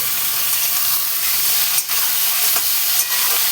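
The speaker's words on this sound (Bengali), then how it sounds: "চিংড়ি মাছগুলোও ভাজা হবে" Prawns and onions fry in a hot pan, a steady bright sizzle and hiss filling the clip with a few small crackles and brief dips, close and loud with no talking.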